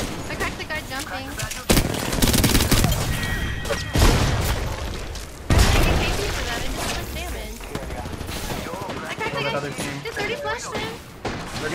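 Gunfire in an online shooter game crackles in repeated bursts and sharp single shots, with a few heavier booms, all mixed under steady talk from players.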